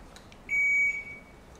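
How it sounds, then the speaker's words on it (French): An electronic quiz-game buzzer at an HR symposium contest sounds one steady, clear, high beep lasting about half a second, with a faint tail, against quiet room noise and no talk. "c'est parce que le buzzer de l'autre était allumé"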